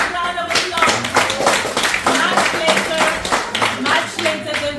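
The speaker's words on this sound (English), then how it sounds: "A big round of applause." An audience claps for the tasters helping judge a Jamaica versus Nigeria cooking competition, a lively uneven patter of hands with some voices and cheering mixed in under it.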